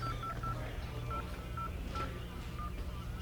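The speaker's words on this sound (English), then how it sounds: "Why don't you go ahead and call your number and let's see who picks it up." A telephone keypad dials a number, a steady sequence of short evenly spaced beeps, faint under a constant background hum.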